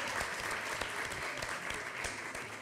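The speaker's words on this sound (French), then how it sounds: "nous allons les applaudir" Audience applause for students at an academic conference session, a dense steady clapping from a full room, moderately distant and uniform throughout, with faint voices mixed in.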